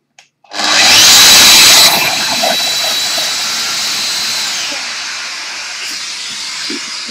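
Festool Domino 700 XL joiner plunge-cutting a mortise into wood: a loud motor whine and cutting rush that peaks for about a second, then eases into a steady running hum that persists to the end.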